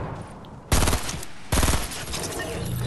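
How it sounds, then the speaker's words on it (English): Two loud bursts of rapid weapon fire from an epic snowball launcher in a video game, each lasting under a second, separated by a short gap over a steady background of game noise. "I have an epic snowball launcher to defend myself"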